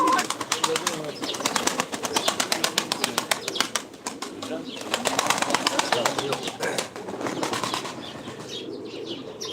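Pigeons, a flock of about fifty birds kept in pairs, coo and beat their wings in rapid rhythmic flapping bursts close by, with people talking throughout.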